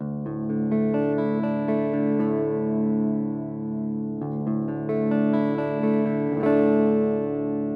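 A heavily distorted electric guitar plays sustained, buzzing chords through a small Lekato TOP-GT GA-02 practice amp, with a few chord changes and a louder strum near the end.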